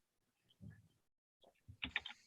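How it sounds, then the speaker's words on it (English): Faint typing on a computer keyboard in a radio studio: a few soft, scattered clicks, then a quick close burst of keystrokes near the end, with no talk over it. "I'm typing to him right now."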